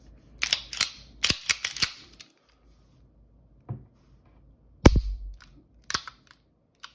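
STI Trojan 1911 pistol being function tested after reassembly: a run of sharp metallic slide and trigger clicks, close and crisp, in quick clusters with short pauses, one heavier clack near the middle.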